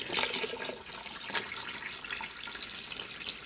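Aquarium water poured into a container: a quiet, continuous splashing trickle with irregular spatters, heard close with no talk.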